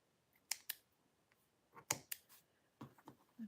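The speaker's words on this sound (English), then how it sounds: "I'm just going to snip all my bits" Scissors snip loose thread and fabric bits from quilt pieces in quick, quiet clusters of crisp cuts separated by short pauses, close by in a quiet room.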